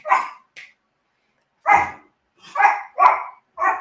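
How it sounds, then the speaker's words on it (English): A dog barks in short, sharp bursts, one or two barks at a time separated by brief pauses, fairly close and alone without talk. "And now my dog's going to bark."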